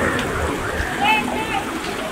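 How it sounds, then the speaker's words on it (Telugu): Water splashes and pours continuously at a water park, with a broad rushing wash of spray throughout. Voices talk over it. "అరే ఇన్ని నీళ్ళు ఎక్కడి నుంచి వస్తాయంట?"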